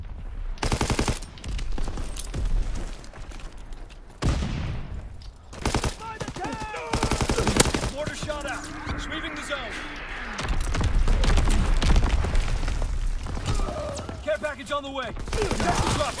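Sniper shot followed by sustained assault rifle fire in Call of Duty WWII team deathmatch on the Ardennes Forest map, dense bursts of gunfire throughout with someone talking over parts of it.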